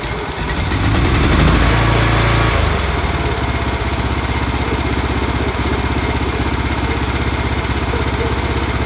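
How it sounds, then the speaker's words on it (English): A 1-ton Chinese mini excavator's gasoline engine cranks and catches, swells loudly for a couple of seconds, then settles into a steady, close, even idle that runs to the end. "To turn on the engine, first turn the ramp handle, and that's just to hear how it sounds."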